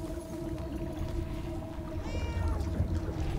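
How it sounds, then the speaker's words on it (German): A cat meows inside the video game Murder Soul Suspect, a short rising mewl over a steady droning game ambience with low rumble, not loud, with no talk. "Oh ja, ich komme gleich zu dir, Kätzchen."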